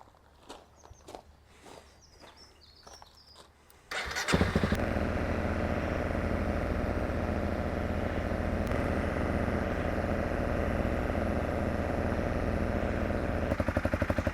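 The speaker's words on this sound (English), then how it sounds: "so here we go, idle test number 1." A Honda CRF300 Rally with an Arrow Thunder titanium exhaust starts after a few quiet footsteps outdoors, then idles with a steady, loud, throbbing single-cylinder putter close by.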